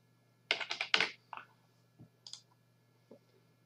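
Text is typed on a computer keyboard: a quick cluster of close, crisp key clicks, then a few scattered single taps over near silence, with no talking.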